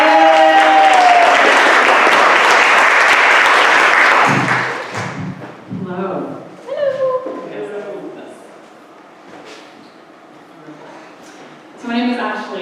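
Loud, full audience applause greets a woman stepping onto a stage at a gratitude-themed event, filling the room for several seconds before fading into scattered claps and thumps as she begins speaking.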